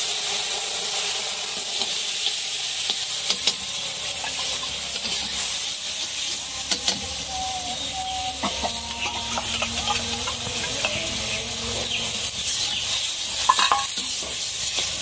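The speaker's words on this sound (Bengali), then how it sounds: "জিরা তেজপাতা সম্বাল দিলাম মশলাটা গুলে এনেছি" Cumin seeds, bay leaf and a ground paste of cumin, turmeric, salt and chili powder sizzling in hot oil in a home kitchen, a steady close frying hiss with stirring scrapes and a few clinks throughout.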